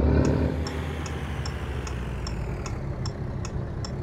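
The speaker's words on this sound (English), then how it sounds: "And the engine sounds that come with this truck." RAM 3500 pickup truck engine idling in American Truck Simulator, a steady low diesel rumble with a faint regular ticking repeating about every half second, no voices.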